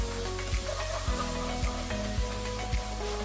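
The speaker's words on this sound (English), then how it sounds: "we're going to mix in our Rotel." Rotel stirred into cooked ground sausage in a skillet: a continuous close sizzle with a regular series of low spoon strokes against the pan.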